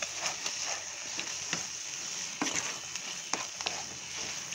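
Mutton is stirred as it fries in a pan, giving a faint, constant sizzle. Soft scraping clicks from the stirring come at irregular intervals, with no voices.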